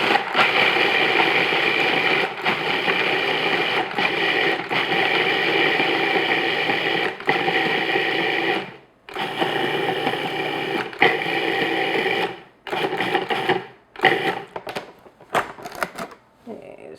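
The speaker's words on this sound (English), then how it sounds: "Since I'm using a food processor, I'm just going to put everything in there" A food processor grinds sugar and cinnamon crumb topping for a yogurt crumb cake in a loud, steady whir that runs for about eight seconds, then breaks into short stop-start pulses.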